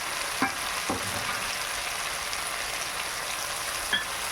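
Okra, potato and shrimp sautéing in a pan, a dense continuous sizzle with a few faint stirring knocks, close and steady with no speech.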